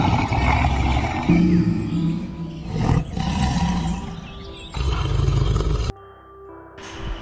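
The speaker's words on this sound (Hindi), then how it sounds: "शेर की आवाज़ को दहाड़ना कहते हैं।" A lion roars loudly in deep, rough bursts that rise and fall over several seconds, then stop abruptly before a quieter tail.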